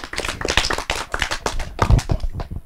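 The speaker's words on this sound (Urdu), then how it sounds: "میرے لیے تالی ہو جائے بھائی" A studio audience on a Pakistani children's radio-on-TV show claps for a child, giving a brief burst of dense, close applause with no talking over it.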